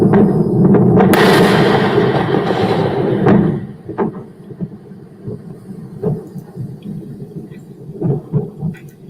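A distant explosion about a mile or two away in a liquid oxygen test setting: a sharp report followed by a long, loud, rolling rumble that fades after several seconds into quieter thuds and outdoor background.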